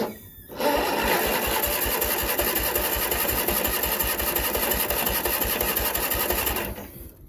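After a loose solenoid connection is fixed, a Husqvarna GT lawn tractor engine starts cold, then runs at a loud, steady, rapid chugging clatter for several seconds before cutting off abruptly.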